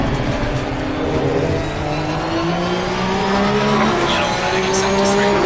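A Porsche Cup race car in Assetto Corsa Competizione at Laguna Seca, braking late with tires squealing in sustained wavering tones over steady engine noise, with a voice talking over it.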